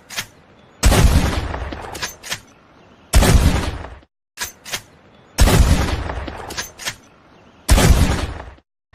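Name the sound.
pump-action shotgun firing in Red Dead Redemption 2 video game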